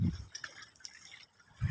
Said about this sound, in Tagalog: Dito sa medyo hampas yung tubig.